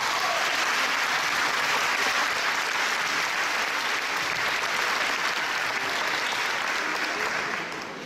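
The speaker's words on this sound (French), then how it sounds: "Alors applaudissements pour elles deux." A theatre audience at an event for a long-running French soap opera applauds steadily and loudly, a dense unbroken wash of clapping lasting the whole stretch before easing slightly at the end.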